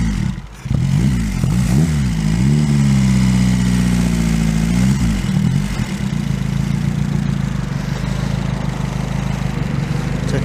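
A Reliant 750 three-wheeler trike engine runs loud and close from inside while driving, its drone climbing and dropping through the gears before settling into a steady cruise.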